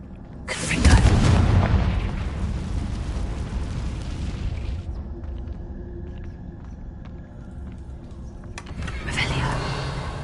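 Confringo blasting spell exploding in Hogwarts Legacy: a loud, close boom with a heavy rumbling burst that rolls into a long crackling, debris-filled tail before a second swell of noise.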